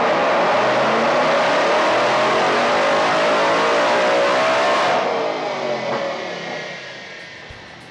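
A built Ford Coyote V8 with a VMP Gen3 TVS supercharger roars at full throttle on a dyno, a loud, close, sustained scream that climbs in pitch and then cuts off, leaving a fading whine and rumble, with no voices.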